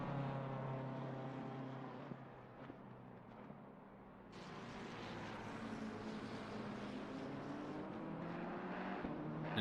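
BMW M4 race car in a racing video game at the Kyalami circuit, its engine droning steadily and loudly throughout, the pitch climbing as it revs up, then opening into a brighter, harsher roar partway through.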